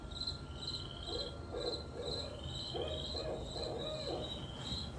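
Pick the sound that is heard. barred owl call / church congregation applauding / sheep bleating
barred owl call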